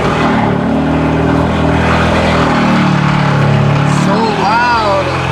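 A loud car engine that has sat unused for two months starts and settles into a heavy, rough idle with a deep rumbling drone, close by and continuous, while people talk over it.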